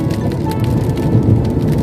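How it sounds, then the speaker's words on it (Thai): Rain falls steadily around a box truck making a delivery run on the road to Rayong, a dense, continuous wash of noise with low rumble close by throughout. "ฝนตกครับผม"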